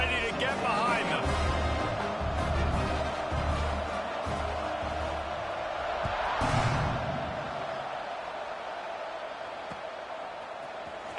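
Stadium crowd at a UNC football game roars steadily through the kickoff, a broad, sustained din beneath an announcer's commentary.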